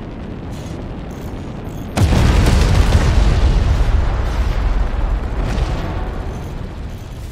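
Six shells from a video game bombardment slam into their target together, a loud sudden burst of booming explosions that rolls on as a dense, rumbling roar and slowly fades.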